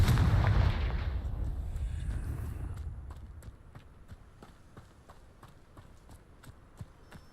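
Confringo fire-spell blasts in the video game Hogwarts Legacy: a loud booming burst that rumbles and fades over a few seconds, followed by a run of quieter sharp clicks and thuds.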